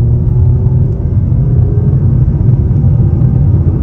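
A 2023 Nissan Sentra SR driving in its low gear, a loud, steady low engine and road rumble heard from inside the cabin with no talk.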